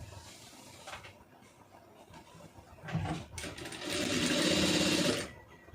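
A sewing machine stitches an Aari blouse in short, close whirring bursts, then one longer run of rapid stitching before it stops.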